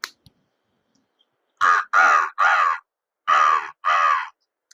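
A voice imitates a crow, giving five harsh nasal caws in two quick groups, close and fairly loud, with brief silence between.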